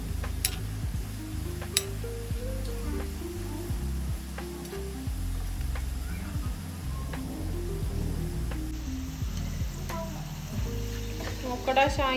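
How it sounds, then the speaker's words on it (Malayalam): Snack dough frying in hot oil until golden, giving a continuous sizzling bubble with scattered small ticks and clinks of a utensil, steady and close throughout, no talking. "അപ്പോൾ നമ്മളിതാ ഗോൾഡൻ ബ്രൗൺ ആവുന്നത് വരെ നമ്മൾ എണ്ണയിൽ ഫ്രൈ ചെയ്തെടുത്തിട്ടുണ്ട് കേട്ടോ."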